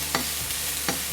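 Flatbread turned and pressed into a hot frying pan with lamb juices, a constant close sizzle with a couple of brief scraping strokes, no talking.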